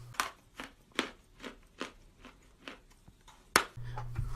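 Crunchy bites of chalk being chewed, about eight short crisp crunches in a steady rhythm, close and fairly loud, with one sharper snap near the end and a low hum underneath.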